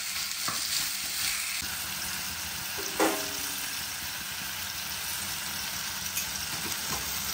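Pickled radish cooks in a pan over low heat, a steady soft sizzle and crackle close by, with a few light scraping stirs breaking through now and then.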